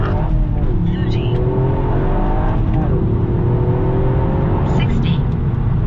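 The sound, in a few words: sports car accelerating hard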